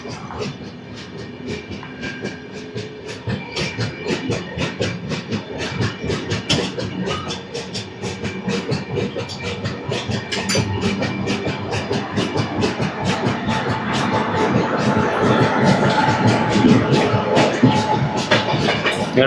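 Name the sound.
Godavari Express train running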